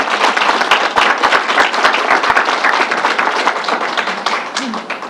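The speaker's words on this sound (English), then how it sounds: "Let's give Troy a round of applause." A small audience at a state fairgrounds coronavirus briefing claps steadily for several seconds, a dense, close patter of hands that holds level and trails off slightly at the end.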